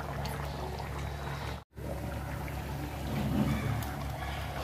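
Paneer pieces for a cashew paneer masala drop into a simmering curry, giving a steady, close bubbling and soft liquid churn with a slight swell of activity toward the end and a brief cut in the middle.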